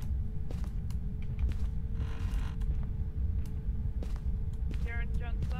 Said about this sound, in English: Definitely a door.